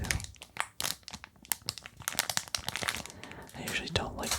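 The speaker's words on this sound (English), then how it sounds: "I know some people like crinkling sounds, so this actually is kind of a satisfying sound too." Crinkling plastic packaging on a card box, close and crisp with irregular crackles and tearing bits, under soft whispered speech.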